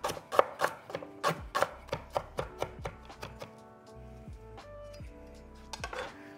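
Garlic minced with a knife on a cutting board, a quick run of close, crisp chops that slows into scattered lighter taps.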